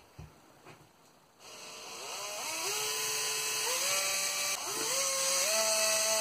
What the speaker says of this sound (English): I'm just going to drill my holes.